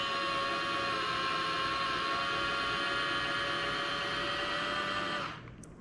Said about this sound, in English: I'm just going to put the gear back up.